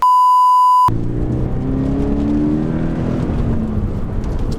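A 2013 Toyota GT86 engine revs up toward 4,000 RPM after a short steady beep, a loud close rising drone with a strained, flat-sounding climb.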